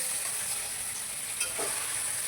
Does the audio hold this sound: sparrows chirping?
no